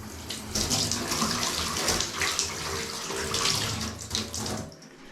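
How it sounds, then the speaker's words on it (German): Water runs steadily from a tap into an old garden hose, making a continuous, close, splashing rush that lasts throughout and stops abruptly at the end. "So, jetzt lasse ich Wasser in den Gartenschlauch laufen."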